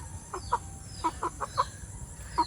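Short clucks from chickens, about seven or eight soft, separated calls scattered unevenly over a few seconds, close by with a low rumbling background.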